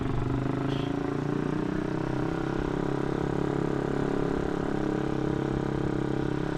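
An MX Old 200cc motorcycle engine fitted with a CLD exhaust runs at a steady, close, loud drone, the tone holding constant throughout with no voices.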